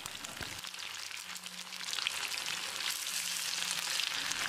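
Payyoli chicken frying in coconut oil, giving a continuous dense crackling sizzle close up that swells slightly louder partway through, with no voices.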